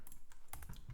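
Quiet keystrokes on a computer keyboard while running a Python file, a quick cluster of soft clicks over about a second, close and faint with no talking.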